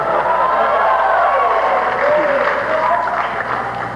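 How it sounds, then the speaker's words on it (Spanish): Loud, sustained applause from a Spanish-speaking church congregation, mixed with voices calling and cheering throughout the whole stretch. "Denle un aplauso a Dios"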